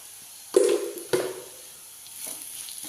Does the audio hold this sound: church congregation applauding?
no